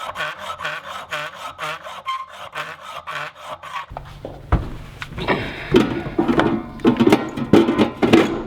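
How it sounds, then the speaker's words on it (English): A hacksaw cuts through threaded rod for a battery box install, giving a rough back-and-forth rasping scrape in uneven strokes, close and fairly loud, with scattered clunks of handling between passes. "I'm gonna get my hacksaw and just cut it on that thread."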